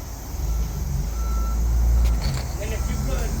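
A truck backing up sounds a steady backup alarm over a low, rumbling engine idle, close by, with a brief air release partway through.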